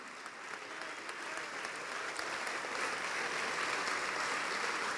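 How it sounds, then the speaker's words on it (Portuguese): A church congregation applauds steadily, dense clapping that builds slightly and continues without a break. "Vamos aplaudir mais ao nome de Jesus."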